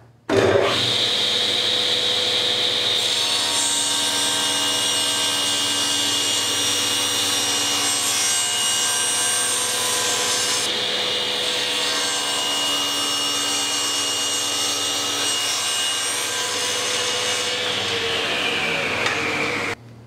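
A power saw runs loud and steady for about twenty seconds, cutting wooden cutouts in a workshop, with a shrill whine over a continuous grinding roar that winds down at the end.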